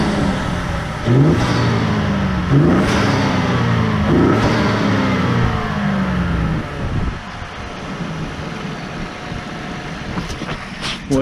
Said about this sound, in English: here we go with some revs.